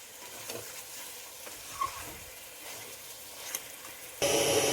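Chicken with green chilli and tomato pieces being stirred in a pan for murgir kosha mangsho, with soft scraping and gentle frying, then a sudden loud, steady sizzle near the end.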